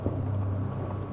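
A Bertram 35 motorboat runs bow-first into wind and waves at speed, a loud, steady low engine drone under rushing wind buffeting, close and continuous.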